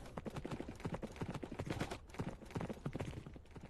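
Horse hooves clip-clop in a steady, brisk rhythm as a horse is ridden in Minecraft, the regular beats moderately loud and continuous with no talking over them.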